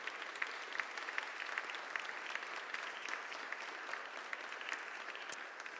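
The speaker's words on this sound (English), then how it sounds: "I just want to do a big round of applause for all our finalists, virtually and in person." Audience applause for finalists at the Technology Ireland Industry Awards 2021, a steady wash of many hands clapping at moderate distance, sustained without a break and with no voices over it.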